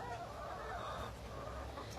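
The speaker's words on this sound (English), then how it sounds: "So here's some of our chickens." Chickens kept at an animal rescue cluck softly in a steady, busy murmur, fairly faint and continuous, with no one speaking.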